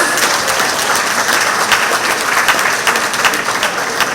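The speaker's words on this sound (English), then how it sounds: "Let's give the executive team a round of applause." An audience at a monthly community meeting in the Pleasantville Community Centre gives a full round of applause, loud and sustained clapping from many hands filling the whole stretch with no talk over it.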